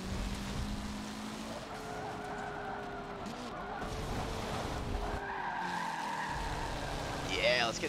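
Race car tires squeal and skid through a long sideways drift in the Forza racing game, sustained wavering screeches over a steady engine roar, with people chatting underneath.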